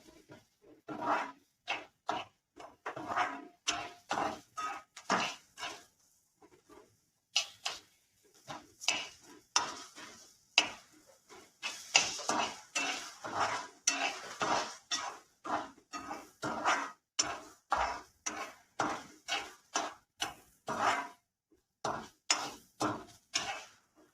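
Onion browns in a pan for egg curry, stirred with a spoon that scrapes and clatters against the pan in quick irregular bursts, close up, with little audible sizzle.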